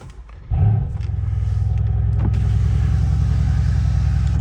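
A 2016 Mercedes-Benz C 63 AMG Edition-1 with the AMG sports exhaust and a custom exhaust fires up with a brief starter crank and a loud, deep flare. It then settles into a steady, throbbing, burbling idle close by.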